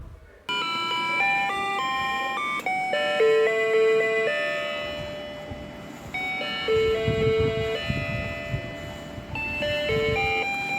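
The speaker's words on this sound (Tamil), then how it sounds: "இப்போ இது எப்படி அலாரம் அடிக்கிறதுன்னு சொல்லி பார்க்கலாம்" An Ajanta wall clock's alarm plays a bright electronic chime melody, a sequence of clear sustained tones stepping up and down in pitch, loud and close, repeating its tune continuously with no talk over it.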